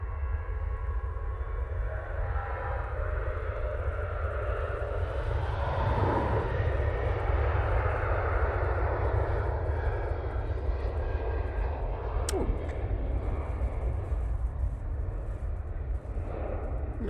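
Airliner on its takeoff roll at Manchester Airport, departing for Rabat, a steady loud low jet engine roar that holds throughout with a brief sharp click midway.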